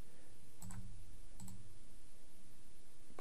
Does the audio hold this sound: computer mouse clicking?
yes